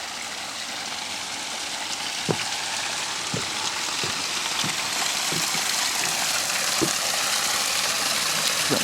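A small waterfall in a garden pond gives a steady, close hiss of splashing water, broken by a few faint thumps.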